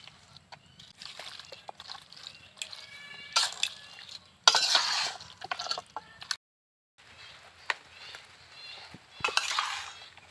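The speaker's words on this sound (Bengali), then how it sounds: "আমি একটা খুন্তির সাহায্যে মেখে নিচ্ছি। ভালো করে একটু মাংসটাকে কিন্তু ম্যারিনেট করে নিতে হবে।" A spatula scrapes and stirs through a whole local duck's meat for marinating, giving quiet, intermittent slick mixing and metallic scrapes with a brief silent pause and no talk.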